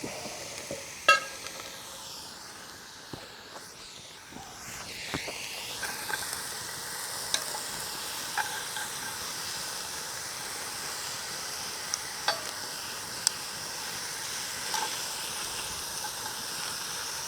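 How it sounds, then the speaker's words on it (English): Steady sizzling of rabbit meat browning in a camp oven, a continuous crackling hiss with occasional sharper pops, no talking. "They're frying up just fine."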